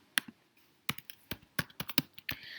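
Close, crisp keystrokes on a computer keyboard while coding, arriving in irregular bursts of sharp clicks with short pauses between them and no talking.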